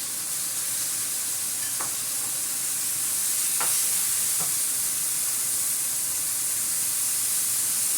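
Meat sears in a hot pan with a continuous hiss and sizzle that holds steady throughout, broken by a few faint clicks or taps, with no voices over it.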